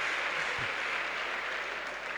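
Congregation applauding during a French-language church sermon, steady dense clapping filling the hall throughout, no voices over it.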